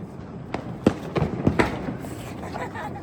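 A quick string of sharp firecracker pops and thuds, fairly close, bursting irregularly over a background of outdoor chatter during a festival.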